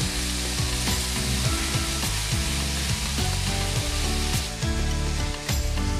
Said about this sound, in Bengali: পেঁয়াজটা আমি ভালো করে ভেজে নেব যতক্ষণ পর্যন্ত কাঁচা গন্ধ না যায়।